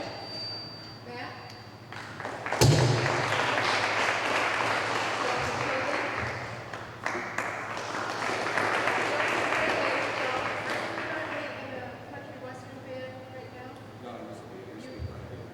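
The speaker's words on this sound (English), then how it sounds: "round of applause" A school awards night audience bursts into broad applause after a loud thump, clapping densely for several seconds, easing, then swelling again before fading, with voices underneath.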